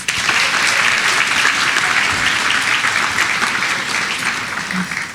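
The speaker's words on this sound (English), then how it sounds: "I think all our Ubah Medical Academy teachers deserve another round of applause." Graduation-day audience at Ubah Medical Academy's 2021 twelfth-grade ceremony gives the teachers a sustained round of applause, a thick, even roar of many hands clapping continuously at close range.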